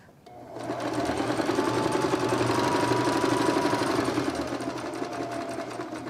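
A sewing machine stitches a medicine bag in a steady, close, buzzing whir that runs for several seconds without pause, with no talking.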